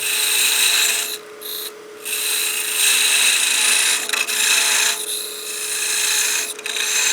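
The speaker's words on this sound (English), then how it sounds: "I'm going to grab my parting tool now and start giving ourselves clearance" A parting tool cuts into wood spinning on a lathe for a bat house ornament, giving a loud raspy scraping that stops twice in brief gaps and then resumes, with a steady motor hum beneath.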